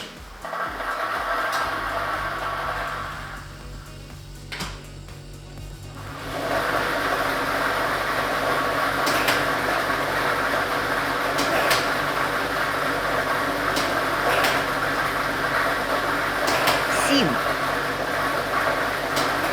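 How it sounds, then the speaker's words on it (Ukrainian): A lottery drawing machine starts up with a steady loud whirring and rattling of numbered balls being mixed, a continuous drone that swells after a brief lull and runs on without pause. "І ми вмикаємо лототрон"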